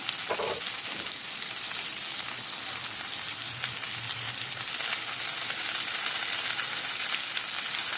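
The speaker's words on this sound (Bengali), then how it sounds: "সব সবজি দিয়ে এবার করতে হবে ভালো করে ভাজা একটু ভাজতে হবে" Chopped ridge gourd, pointed gourd and drumstick pieces frying together in a pan, giving a steady, even sizzle with a soft stirring scrape near the start, close and continuous throughout.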